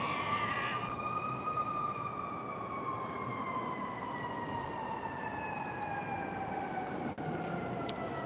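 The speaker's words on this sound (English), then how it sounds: "there's a fire engine cranking up down the street" Fire engine siren wailing down a city street in Chicago, a long sustained tone slowly falling in pitch, moderately distant over steady traffic rumble, with a brief higher chirp midway.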